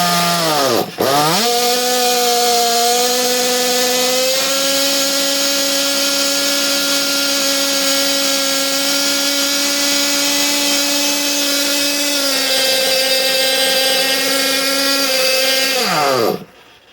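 A small NOVA B5R engine running on its first start, a loud, steady high-pitched whine. Its pitch shifts a few times and it drops away at the very end.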